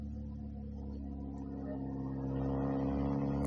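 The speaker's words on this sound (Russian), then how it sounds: "Везде шумно, машины ездят" Cars drive past a rural village yard on a windy day, a continuous low engine rumble that swells slightly louder near the end, with no talking.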